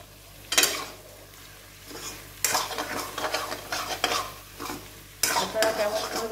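Egg, potato and cauliflower fried together in a pan and stirred with a spatula, giving bursts of scraping and clatter over a constant sizzle, with short pauses between strokes.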